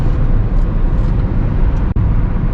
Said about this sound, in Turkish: Dördüncü viteste gazlıyoruz arkadaşlar.